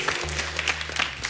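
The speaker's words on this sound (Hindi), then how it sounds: "इनके लिए जोरदार तालियां" Applause from a studio audience at a comedy TV show, a brief dense burst of many hands clapping with a low hum underneath.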